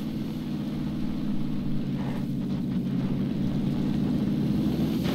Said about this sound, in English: Looks like the plane's gonna head that way anyway.